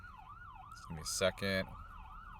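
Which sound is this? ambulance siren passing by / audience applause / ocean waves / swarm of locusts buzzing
ambulance siren passing by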